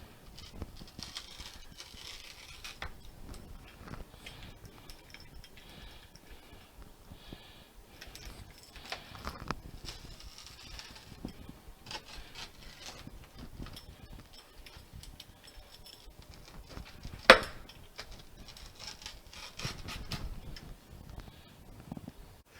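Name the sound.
cutting homemade pan pizza in a cast iron skillet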